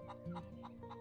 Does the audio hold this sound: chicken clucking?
yes